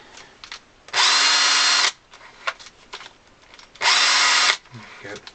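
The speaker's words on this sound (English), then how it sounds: "They can also be used when you're trying to drill new holes for your bellows pins." A small drill boring holes for accordion bellows pins sounds in two whirring bursts of about a second each, close and loud, with quiet handling clicks and taps between them.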